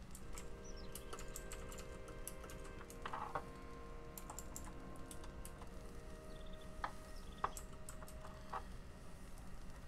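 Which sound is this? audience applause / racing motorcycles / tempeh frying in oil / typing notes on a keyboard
typing notes on a keyboard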